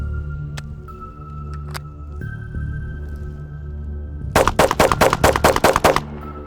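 A Glock 43X or Glock 48 pistol loaded with Shield S15 magazines fires a fast string of about ten loud, sharp shots near the end. Quieter ambient noise and a few faint clicks come before the shots.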